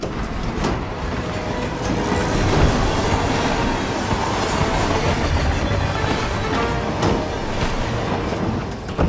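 A train rolls along in the video game Hitman 3, a loud, steady rumble with rhythmic clickety-clack from the rails and faint wheel squeal, heard without talk.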